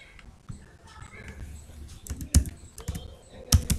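Rapid, steady clicks of a computer keyboard being typed on, capped by louder, sharper Enter presses near the end, with faint room background and no talking.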